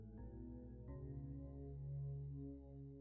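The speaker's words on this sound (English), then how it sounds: "And then we've got the pad here. Sounds like this." Soft, sustained synthesizer pad chords from a Korg M1, two quick chord changes near the start and then a long, smooth held chord, played quietly with no voices.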